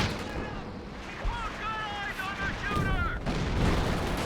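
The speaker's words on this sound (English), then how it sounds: "Some artillery coming in" Distant artillery barrage booms and rumbles in a multiplayer war game match, a steady low roar with scattered blasts beneath faint whistling tones and background chatter.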